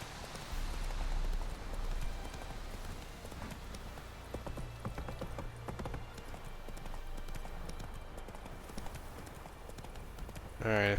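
Horse hooves clip-clop steadily on the ground in the video game The Witcher 3, a continuous soft trotting rhythm with someone talking over it.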